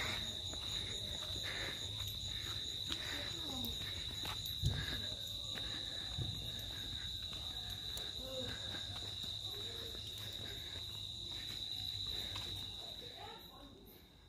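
A steady, high-pitched chorus of crickets chirps continuously in the foggy winter night air in Bangladesh, with faint voices and occasional rustling beneath it.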